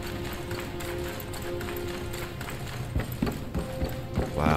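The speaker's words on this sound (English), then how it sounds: "just running on that wood" Running footsteps on a wooden surface in the video game Black Myth Wukong, a steady fast patter of taps that grows louder and sharper toward the end over a dense game soundscape.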